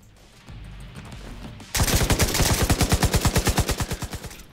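An LMG in The Division 2 fires a long sustained burst of rapid, evenly spaced shots, loud and close, after a brief quieter lead-in.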